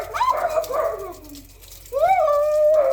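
A small dog gives high, whiny yips and barks nearby in two short bursts, separated by a brief quiet gap, and no one speaks over it.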